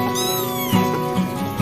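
A cat meows a few short times close by while it is being cleaned with cotton and warm water, the calls rising over a steady harmonic background.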